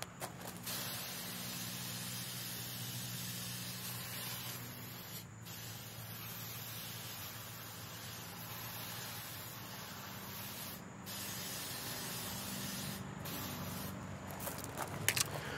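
Continuous hissing spray of P&S Brake Buster non-acid wheel cleaner onto a car wheel with baked-on brake dust, holding steady for about fifteen seconds with a few brief breaks, fairly close and alone.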